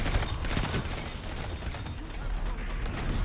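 Gunshots fired in a video game, a loud, dense run of shots and mechanical clatter filling the clip without a clear break.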